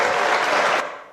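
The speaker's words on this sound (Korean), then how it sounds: "박수!" A short burst of dense congregational clapping during a church worship service, loud and steady for under a second before it quickly fades out.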